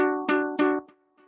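A major third interval sounded on a keyed or plucked instrument, two clear strikes in quick succession with ringing decay, followed by a fainter third note, close and alone without speech.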